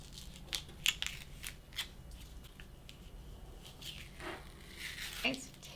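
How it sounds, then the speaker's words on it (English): Cut crafting pieces peeled off their paper backing, a few light crinkling, ripping rustles spaced out over a quiet background while a person talks. "let's take off the pieces from their paper backings"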